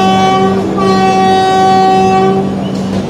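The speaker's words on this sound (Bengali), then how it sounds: "খুর্জা রোড থেকে ট্রেন ছেড়ে দিল।" The 12821 Dhauli Express leaving Khurda Road station sounds a long, loud, steady multi-tone horn blast lasting about three seconds over a low rumble, very close.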